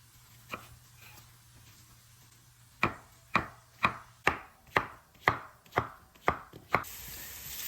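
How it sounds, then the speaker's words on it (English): A knife cuts zucchini into cubes on a board: two soft early taps, then a regular run of about nine sharp, close chops, quiet between strikes, with no talk. "for the zucchini, just gonna cut it up into cubes"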